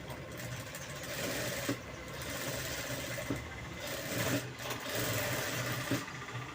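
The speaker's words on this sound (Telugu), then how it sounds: "చూడండి ఇలా నేను ఇక్కడ కుట్టేసేసాను కదా." A sewing machine runs a stitch along the edge of a baby frock, a loud, close, steady whirring hum broken by a few brief pauses, with no voices.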